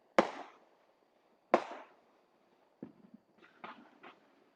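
Two sharp, booming firework mortar blasts a second apart ring out at a distance, followed by softer scattered pops and crackles.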